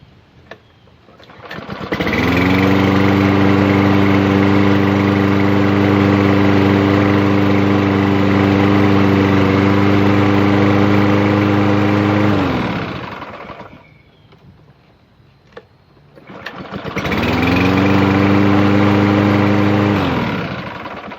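Lawn-Boy lawn mower engine with a freshly cleaned carburetor and straightened fuel line, starting and running steadily at a loud close drone for about ten seconds, cutting out, then restarting and running again.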